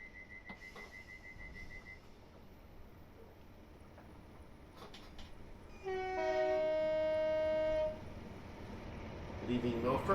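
Train passing through Milford station bound for Acton Yard, its horn sounding a sustained two-tone blast over a steady low rumble of rail noise.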